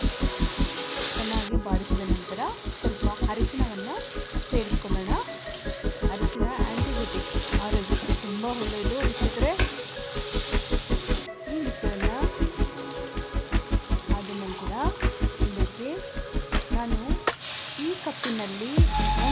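Greens tossed in oil in a pan sizzle loudly and continuously, with a rapid rhythmic scraping of a spoon against the pan and brief pauses between bursts of stirring, while a voice talks over it.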